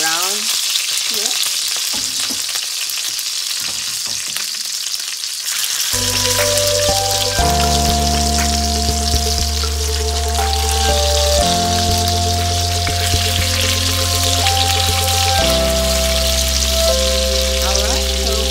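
Chicken legs fry in a pan with mushrooms and spinach, giving a loud, steady sizzle and crackle for the whole stretch with little talk, while musical tones play alongside in the second half.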